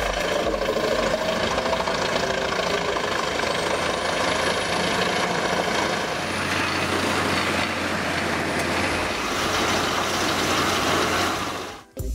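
A Chippo AT10C wood chipper powered by a 780 hp engine runs with a loud, steady, heavy mechanical roar and grinding rattle. The tone deepens partway through before cutting off abruptly at the end.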